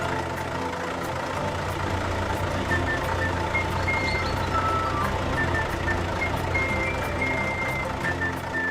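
A large cartoon truck hauling crushed asphalt reverses, sounding a steady series of high warning beeps over a low, continuous engine hum.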